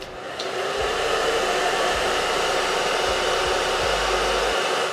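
A blow dryer runs steadily and close, a constant loud airy whoosh drying a cinnamon brown deep wave wig, with low thumps from the comb pressing underneath.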